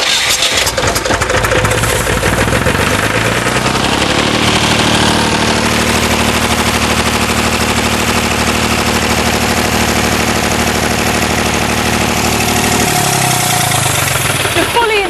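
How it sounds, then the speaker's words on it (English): A loud powder-fuelled engine sputters to life and settles into a steady, droning run with a rough, rattling edge, then shifts pitch near the end. "Now you just pour this into the top of the engine"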